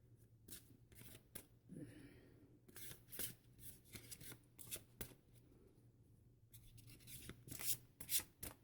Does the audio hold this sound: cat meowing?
no